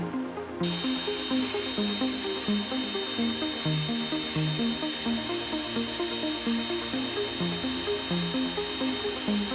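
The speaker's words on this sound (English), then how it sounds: "As you get close to breaking through, the drill sound will change." A high-pitched drill whines continuously at close range, grinding steadily through a glass bottle with a slightly fluttering, rhythmic tone and no talking.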